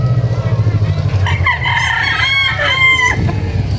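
A cock crows once, loud and near, with the call stretched over about two seconds above a steady low rumble of engine or vehicle noise on a poultry farm.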